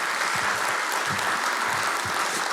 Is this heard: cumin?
no